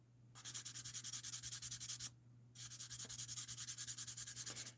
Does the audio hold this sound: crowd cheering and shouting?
no